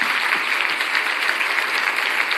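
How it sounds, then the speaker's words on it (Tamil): A church audience claps steadily, with dense continuous applause from many hands at an even level and no pauses from start to finish. "நல்ல கைத்தட்டணும். கைத்தட்டுங்க, கைத்தட்டுங்க."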